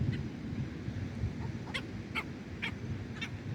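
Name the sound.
birds calling outdoors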